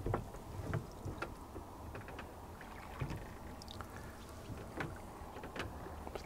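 A group of rowing boats passing close by on Lac de St. Cassien, with rhythmic splashes and knocks of oars in the water over a low wind-buffeted rumble.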